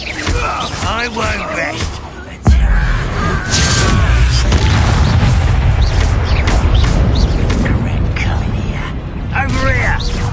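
An Incendio fire spell in Hogwarts Legacy erupts with a sudden loud burst, then a sustained roaring, crackling rush of flame under combat noise, while a voice speaks briefly near the end.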